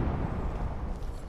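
A frag grenade detonates in the Apex Legends video game, a muffled, rumbling explosion heard at a moderate distance with a broad low-frequency roar that stays fairly steady and fades slightly.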